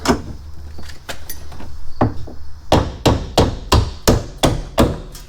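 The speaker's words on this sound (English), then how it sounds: "Gonna get a hammer, try and beat on that." A hammer beats on the cab corner panel of a 1988-98 Chevy Silverado OBS truck: scattered knocks at first, then a run of about nine sharp, evenly spaced metallic blows, close up.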